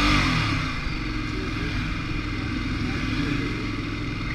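A Ducati motorcycle engine holding a loud, steady mid-pitched drone close by on a road trip, with slight rises in revs and no clear talk.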